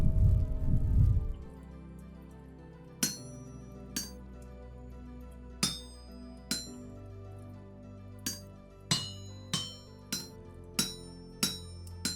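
Metal being hammered on an anvil in the game Vintage Story, a run of bright ringing clinks spaced about a second apart after a brief low rumble, no speech.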